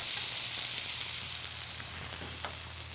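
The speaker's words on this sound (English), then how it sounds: "let this cook undisturbed for 2 to 3 minutes or until it's nicely browned on the bottom" Beef sears undisturbed in a hot skillet, giving a constant bright sizzle that holds at an even level throughout, close and unbroken, with no voices.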